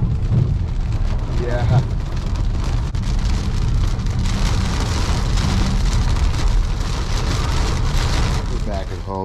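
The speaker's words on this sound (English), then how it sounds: "Just chilling in our garage, watching it rain outside." Steady rain falls outside an open garage at Echo Lake, Montana, a dense continuous patter on surfaces with occasional gusts, while people talk softly nearby.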